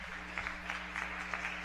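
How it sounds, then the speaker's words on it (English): Crowd at a basketball game in Yellow Jacket Arena applauding as the starters check out, a steady wash of clapping with small swells, heard at a moderate distance over a low hum. "a great hand by the crowd here tonight at Yellow Jacket Arena as the starters check out"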